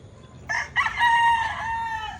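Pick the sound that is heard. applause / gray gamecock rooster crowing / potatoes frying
gray gamecock rooster crowing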